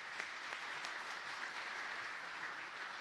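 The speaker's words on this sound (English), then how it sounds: "Please give her a round of applause and welcome." Audience applause welcoming a speaker to the stage at the Smart Cincy Summit 2018 in Cincinnati, a steady, dense wash of clapping that holds evenly from start to finish.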